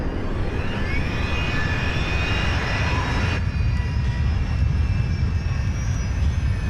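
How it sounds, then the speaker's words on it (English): Rolls-Royce jet engine restarting on a British Airways airliner in flight, a loud steady low roar with a high whine that drops away partway through. "The noise that a Rolls-Royce engine makes when it starts up is low rumbling noise"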